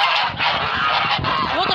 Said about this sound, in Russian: Мои серые гуси.